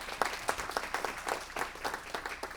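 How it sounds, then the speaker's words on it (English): Scattered clapping from a small audience at a March 2020 city council meeting, a thin, uneven patter of individual claps close by, fairly quiet and without speech. "Give them a round of applause,"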